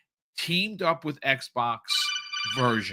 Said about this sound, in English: Metal Gear ringtone.